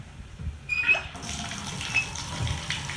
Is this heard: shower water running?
yes